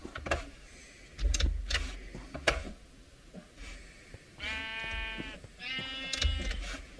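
Two drawn-out Minecraft sheep bleats sound close together near the end, following scattered clicks, knocks and a steady low hum.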